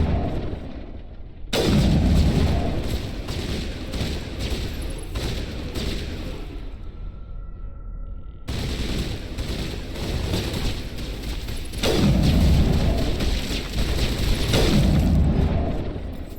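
Gunfire in the Mass Effect video game, sustained booming bursts of rapid shots in two long stretches separated by a brief lull, loud and dense with no talking.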